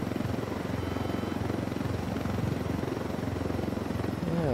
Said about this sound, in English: Need to ditch this helicopter though